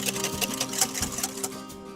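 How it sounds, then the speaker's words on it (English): Rapid rhythmic clicking of a whisk beating egg yolks with castor sugar in a bowl, brisk and steady, close and moderately loud. "you now need to whisk your egg yolk until pale and fluffy"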